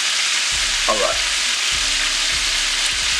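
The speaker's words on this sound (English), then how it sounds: "So we're done frying our chicken." Pieces of chicken frying in hot oil, a constant loud sizzle and crackle throughout, with occasional soft knocks of utensils moving the pieces.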